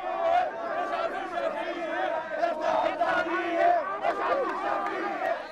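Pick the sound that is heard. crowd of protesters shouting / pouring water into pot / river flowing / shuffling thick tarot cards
crowd of protesters shouting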